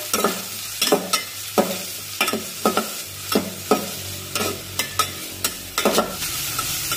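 Finely chopped onion fries in lightly heated oil for a spicy chicken curry while a spoon stirs it, giving a steady soft sizzle broken by about a dozen sharp scraping strokes against the pan, close and clear.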